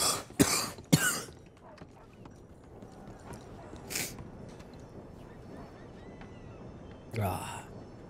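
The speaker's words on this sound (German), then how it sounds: "jetzt habe ich hier voll ins Mikro gehustet" A person coughs sharply into a close microphone several times, two quick loud coughs at the start, then one more and a final harsher cough later, with faint background noise between them during a game roleplay stream.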